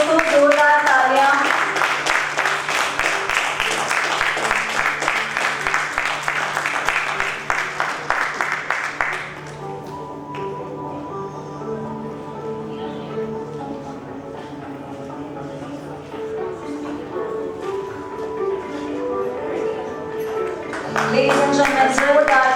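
Audience applause at an awards ceremony starts loud and dense over sustained music, drops to a quieter stretch where the music carries on, then swells back near the end.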